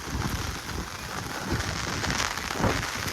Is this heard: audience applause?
no